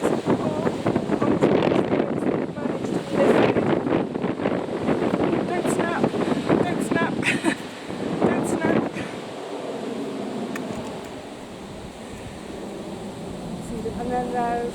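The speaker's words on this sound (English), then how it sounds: "can you hear me over the wind?" Wind buffets an outdoor microphone in a kitchen garden, producing loud rumbling gusts that swell and ease across the clip, while someone talks over the noise.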